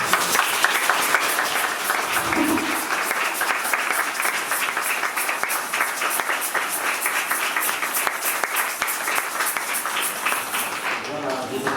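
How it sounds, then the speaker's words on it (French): Sustained applause from a church congregation at a Catholic baptism fills the space, dense and steady throughout, fading slightly at the very end. "Vous vous tournez vers les gens et on vous applaudit."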